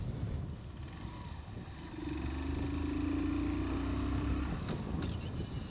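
A Hero Super Splendor Xtec 2.0 125cc motorcycle engine rumbles steadily up close, its note rising and holding strong from about two seconds as it accelerates, with no talk over it.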